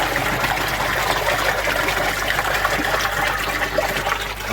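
Water pours and trickles steadily into a pond moving bed filter as it refills, a continuous close rushing gush with no voices over it.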